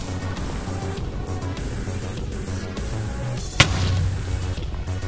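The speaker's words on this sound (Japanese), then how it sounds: "それでは爆発していきたいと思います" An explosion in Minecraft Bedrock Edition bursts out sharply partway through, followed by a low rumbling boom, over a background of steady game-like noise and hum.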